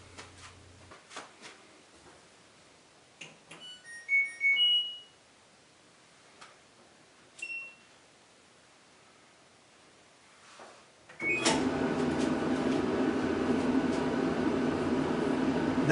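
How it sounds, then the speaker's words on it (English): An LG clothes dryer being tested with its door switch bypassed gives a few beeps and clicks. It then starts up into a loud, steady, close rumble of the running machine that lasts to the end. "And try the dryer to see how it works."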